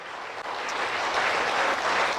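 A church congregation claps together in steady, dense applause that holds at an even level throughout, with no voices rising above it.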